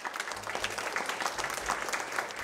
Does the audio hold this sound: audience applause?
yes